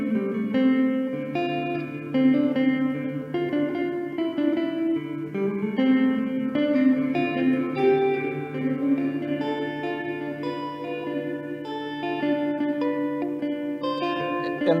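Electric guitar fitted with Fluence Modern humbuckers, played on the neck pickup in passive voicing through a phaser effect with reverb, sounds steady sustained chords and notes with a swirling modulated shimmer, alone and continuous throughout.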